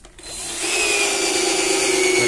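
A power drill or driver whirs steadily as a screw is driven into wood while assembling a homemade drilling jig for cabinet and wardrobe doors, the motor rising to a continuous, close, loud whine.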